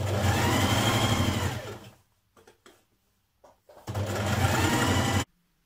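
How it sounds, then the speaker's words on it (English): A sewing machine stitches a small double hem along the bottom of a dress in two close, steady runs of rapid whirring, split by a pause filled with soft clicks and fabric handling. "I'm now just doing a small double hem at the bottom of the dress. So just turning it under twice."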